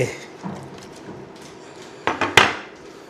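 A utensil scrapes and clanks inside a pot while wild boar pork is stirred into red curry paste simmered with coconut milk, with scattered soft knocks and then three sharper metallic hits near the end.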